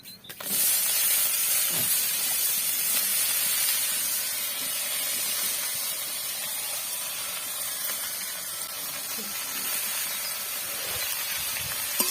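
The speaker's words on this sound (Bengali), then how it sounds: "এবার আমি বাঁধাকপিগুলো এর মধ্যে দিয়ে দেবো" Cabbage dropped into hot oil with cloves and cumin, giving a loud, steady, close-up sizzle and hiss that holds for the whole stretch, with no talking.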